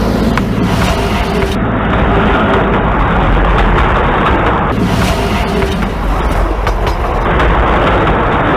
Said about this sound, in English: we thought we'd just take a quick look at them trains